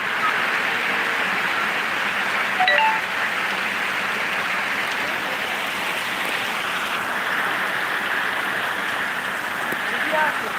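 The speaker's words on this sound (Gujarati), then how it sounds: "રામપુરા મોટા ગામથી વરસાદ જોરદાર વરસી રહ્યો છે" Heavy rain pours steadily, a dense constant hiss of drops on surfaces with no break throughout.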